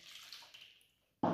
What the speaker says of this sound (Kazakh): Сүтімізді құйып аламыз.